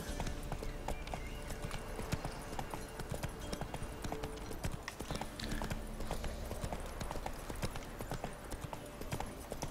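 Horse hooves clip-clopping at a gallop in the video game The Witcher 3, a steady rapid rhythm running throughout over a busy, dense game soundscape.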